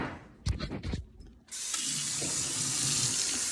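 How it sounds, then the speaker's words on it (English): Water pours and splashes out of a glass sprouting jar into a sink, a steady rushing stream starting after a few brief knocks and clatters, loud and close with no talk. "You dump out all that water"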